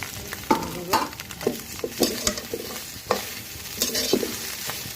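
Okra (ladies finger) sizzles in a frying pan while being stirred, with repeated scraping strokes and bursts of frying hiss throughout, close and moderately loud with no talk.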